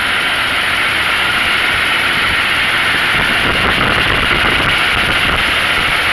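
A pickup truck's 460 cubic inch V8 engine idles with a loud, steady low rumble and constant broadband roar, unbroken from start to finish with no talk.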